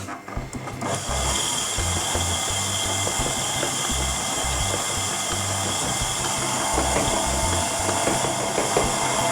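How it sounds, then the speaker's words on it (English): An electric hand mixer whirs steadily through chocolate fudge cake batter, a loud continuous motor drone with a scraping, rubbing texture, running alone without talk for the whole stretch. "Now using a hand mixer or a stand mixer, we're going to mix this until it's well combined."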